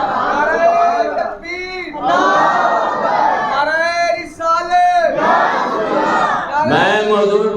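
A large crowd at a religious gathering chants a slogan loudly in unison, voices surging in repeated rhythmic waves with brief dips between calls.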